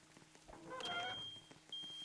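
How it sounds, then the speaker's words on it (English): Faint electronic beeps from a smoke alarm in a pizza-restaurant video game, two thin tones sounding briefly behind quiet background noise. "Why do I still hear the smoke alarm?"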